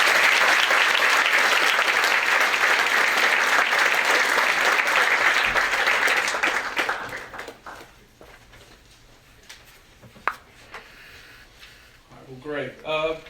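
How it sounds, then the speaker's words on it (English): Audience applause at a university keynote address for an early arrival program fills the first half, steady and full, then dies away to quiet room noise with scattered small sounds and a brief voice near the end. "please give Dr. Williams another round of applause."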